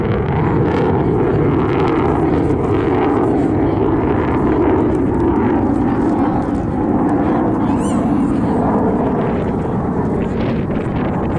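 SAAB SK-37 Viggen jet at an outdoor airshow, a loud continuous roar of jet engine noise mixed with wind buffeting on the microphone, while a commentator talks over it.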